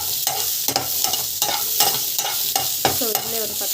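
Fennel and cumin seeds sauté in a pan, a loud close sizzle broken by repeated scraping stirs at a quick, uneven rhythm, with no talk.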